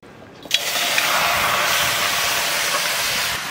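Hand-mixed Malabar spinach with potato and onion drops into a dry, oil-free hot wok for a Bengali pui dal, setting off a sudden loud steamy hiss that holds steady for about three seconds.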